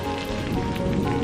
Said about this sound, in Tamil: மழையும் நிற்காம பெஞ்சிட்டு இருந்துச்சு.